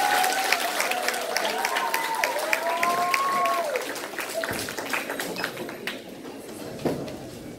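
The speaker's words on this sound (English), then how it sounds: "Could you give them a hand clap of praise?" An audience at a Christian academy's parent appreciation day applauds a class of young students, a dense, steady clapping that lasts several seconds, then thins out and fades away toward the end.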